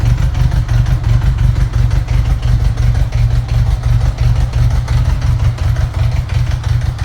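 Cold-started motorcycle engine idling steadily up close, a loud, throbbing low rumble with a slightly uneven, pulsing beat and no voices.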